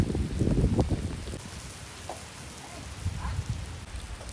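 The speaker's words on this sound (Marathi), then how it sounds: "जोर जोरात पाऊस पडायला लागला आहे आणि या पावसात मी भिजतो आहे" Heavy monsoon rain pouring at Malshej Ghat, a dense steady hiss of drops striking surfaces nearby, with a low rumble underneath.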